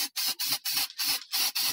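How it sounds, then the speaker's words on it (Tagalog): Spray paint hisses from a can onto a Bajaj RE three-wheeler during a minor rust repair: about six or seven short, even bursts in a steady rhythm, close and loud, with no talking. "Saka yung pag-spray natin ng busni"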